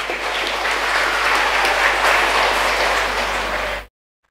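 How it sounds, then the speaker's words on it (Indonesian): Applause from the congregation at a parish anniversary celebration, a thick, steady roar of clapping with a low hum beneath, holding evenly before cutting off abruptly to silence. "Tepuk tangan untuk Santo Paulus Nganjuk."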